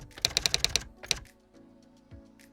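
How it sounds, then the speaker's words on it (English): Rapid typewriter keystrokes clack in a quick run, then a single strike after a short pause, followed by faint mechanical rattling. "when you now overlay your typewriter sound"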